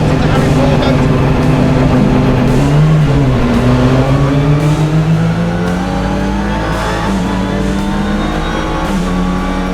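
TCR UK touring cars at Snetterton pulling away at the start of a race, loud engines revving and accelerating with rising and falling gear-change whines, heard close throughout the clip.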